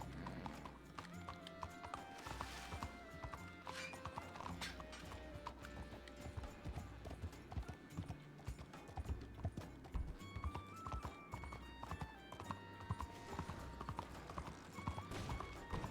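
Horse hooves clip-clop steadily through a video game ranch scene, with an occasional whinny, moderately loud and continuous.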